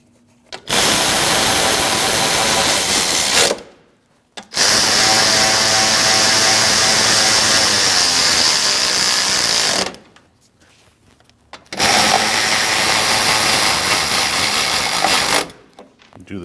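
Power tool driving 10mm bracket bolts on a 2014–2023 Jeep Cherokee while replacing the radiator cooling fan assembly, three long, loud whirring runs of several seconds each, separated by short quiet gaps.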